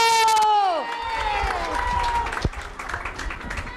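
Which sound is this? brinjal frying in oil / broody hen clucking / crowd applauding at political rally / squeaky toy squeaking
crowd applauding at political rally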